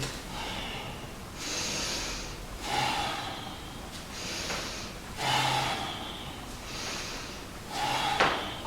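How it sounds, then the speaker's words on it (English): Loud, deliberate breaths come and go in a slow rhythm during a yoga-style golf swing exercise, each audible inhale and exhale rushing close to the microphone with pauses in between. "try to make sound with your breathing"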